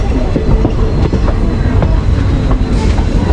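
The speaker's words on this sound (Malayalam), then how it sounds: "ഇങ്ങനെ നമ്മൾ നിലമ്പൂർ റെയിൽവേ സ്റ്റേഷനിലേക്ക് ഇതാ കയറിക്കൊണ്ടിരിക്കുന്നത്." A passenger train rolls into Nilambur railway station toward platform one, its wheels beating a loud, close, continuous clickety-clack over the rails with a faint squeal late on.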